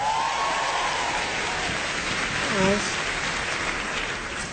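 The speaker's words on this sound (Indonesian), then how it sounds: "boleh tepuk tangan?" Sustained clapping from a stand-up comedy crowd fills the room as a broad, steady roar, with a short vocal cheer rising near the middle.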